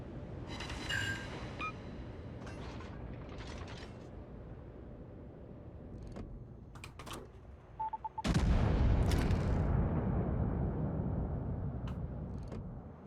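Warship guns fire in the naval game World of Warships. Scattered sharp cracks build to a heavy boom that rolls into a loud, sustained rumble.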